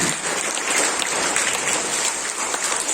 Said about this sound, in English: all the students, all the teachers, please clap for them to motivate these students